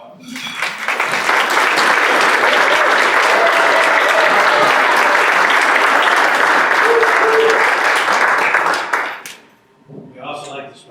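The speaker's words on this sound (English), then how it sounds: "please stand so we can give you a big round of applause" An audience at a Rotary club meeting gives a loud, sustained round of applause for new members, the clapping filling about nine seconds before fading out as a voice begins speaking.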